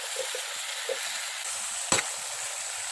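Cut cucumber pieces sizzle steadily in a frying pan while cooking Assamese cucumber khar, with one sharp clack of a utensil midway and no voices.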